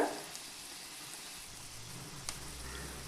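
Onions sauté in hot oil in a pan, giving a faint, steady low sizzle with a soft clink or two and no talking.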